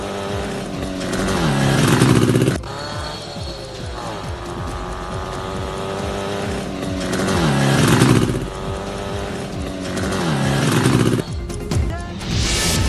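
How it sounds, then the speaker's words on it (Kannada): A yellow Jawa motorcycle is ridden around a farmhouse, its engine revving up in repeated surges between steadier running, with mechanical clatter and background music. "ತೋಟದ ಮನೆಯಲ್ಲಿ ಹಳದಿ ಬಣ್ಣದ ಜಾವಾ ಬೈಕ್ ಓಡಿಸಿದ"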